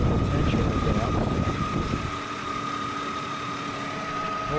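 A 2000 Mercedes E320 engine idling after a power steering pump replacement, a steady close hum with a fixed tonal whine; heavier rumble in the first two seconds, then a smoother running drone.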